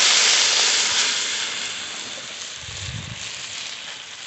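Water splashed onto spices frying in a hot pan bursts into a loud, bright sizzle that gradually settles into a softer steady hiss, with a brief low clatter partway through.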